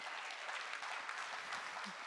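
Scattered applause from a church congregation during a family sermon, faint and distant, a thin patter of clapping spread across the moment.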